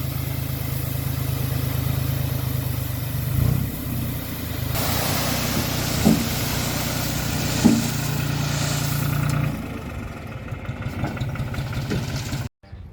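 A dump truck unloading very fine gravel and sand idles with a steady low diesel drone, a few brief knocks and thumps breaking through and a hissing rush of material in the middle stretch before it quiets toward the end.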